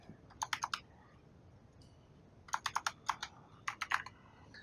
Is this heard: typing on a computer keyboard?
yes